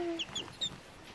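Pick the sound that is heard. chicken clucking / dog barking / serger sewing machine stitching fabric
chicken clucking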